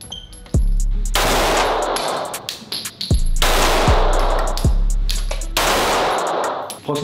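Glock 45 pistol fired at an indoor shooting range, several sharp loud shots spaced a second or two apart, each one followed by a long booming ring.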